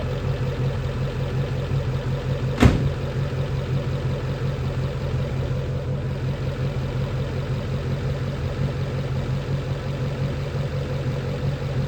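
A Mercury car engine fires up with a sharp click, then settles into a steady, even idle that hums on close by without any voices.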